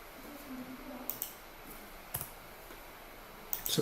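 A few separate taps on a calculator app come through as faint, sharp clicks, spaced irregularly over a quiet background with no talking.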